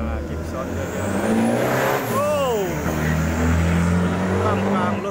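Loud passing vehicles with roaring engines and a rising-then-falling whine as one sweeps by, set near a busy street-side steak stall, with a voice talking over the traffic.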